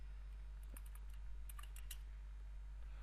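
Typing on a computer keyboard makes a quick cluster of light, crisp key clicks, close and fairly faint over a steady low hum, with no speech.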